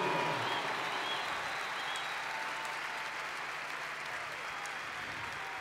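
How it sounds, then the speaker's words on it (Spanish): A live concert audience at a rock show in La Plata, Argentina, applauds in a steady, distant wash of clapping and crowd noise, faint and continuous throughout. "Un aplauso enorme."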